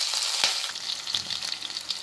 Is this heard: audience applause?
no